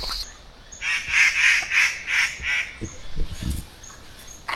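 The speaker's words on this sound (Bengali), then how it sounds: "পাখি ডাকছে" Several loud, honking bird calls repeat in quick succession, like geese or ducks nearby, in hill country at Kolakham near Kalimpong, then fade into softer rustling and a few low thumps.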